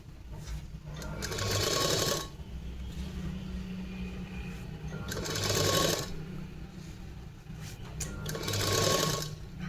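A sewing machine stitches the seams of a three-piece princess-cut garment, running in three rapid, fairly close bursts with a low motor hum between them.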